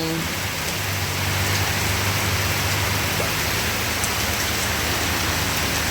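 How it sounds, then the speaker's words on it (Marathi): Heavy rain falls steadily and loudly for days on end, a dense unbroken hiss with a faint low hum underneath. "खरं काय आता पाऊस उघडायचं नाव घेत नाहीये रात्रभरही असाच पडतो"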